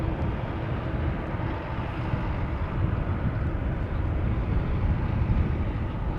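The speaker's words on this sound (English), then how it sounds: "Love the airplane." Airplane arriving at Amsterdam Schiphol Airport, a steady, loud low-frequency roar that holds evenly throughout, with some wind noise mixed in and no talking.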